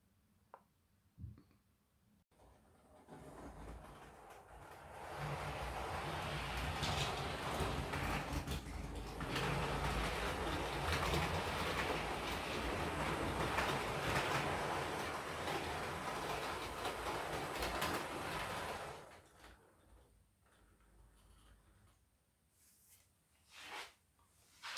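A model GWR HST train set runs past on its track, a steady rolling rumble with clickety-clack rising as it approaches, holding loud for about fifteen seconds, then fading away, with no talk.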